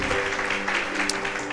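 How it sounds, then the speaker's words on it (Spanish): A church congregation applauds during a wedding ceremony: a steady, dense wash of clapping through a short stretch, with a faint sustained tone running beneath it. "La iglesia da un fuerte aplauso también."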